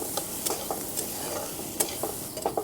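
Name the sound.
onion sautéing in pan for tomato thecha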